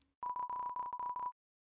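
A landline telephone in the video game Deltarune gives a run of about eight short, steady electronic beeps on a single pitch, clear and alone with no talk over them.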